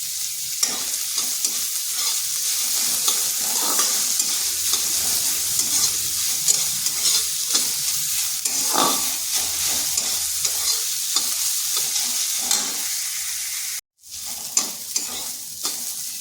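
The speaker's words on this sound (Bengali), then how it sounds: "পেঁয়াজটা হালকা একটু ভেজে নিচ্ছি। এরপর এখানে দিয়ে দিচ্ছি গ্রেট করে রাখা 1 টুকরো আদা।" Onion and grated ginger fry in a pan with a constant bright sizzle, broken by repeated scraping stirs at a close distance and a brief dropout near the end.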